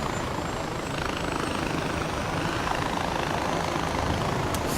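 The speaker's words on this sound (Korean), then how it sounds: "오 헬기 생김" Helicopter in the video game Far Cry 4, a constant loud rotor and engine drone with dense chopping texture, steady and close throughout, no voices.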